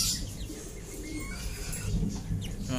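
Ordinary bantam chickens ready to breed, two hens and a cock, make short soft calls and coos at close range, fairly quiet.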